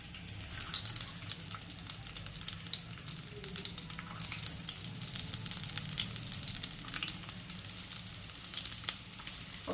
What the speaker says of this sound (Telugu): ఆయిల్ వేడైందండి. ఇప్పుడు ఉల్లిపాయ వేసుకుందాం.